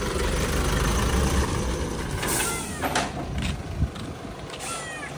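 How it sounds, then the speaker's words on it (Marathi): A tempo's engine idles with a low steady rumble at a Ganpati temple, with a few brief higher clanks and hisses over the running motor. "टेम्पो आले आपल्या गणपती मंदिराकडे"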